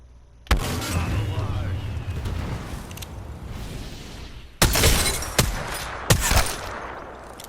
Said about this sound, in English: He shoots a mortar that has an explosive wall, like this.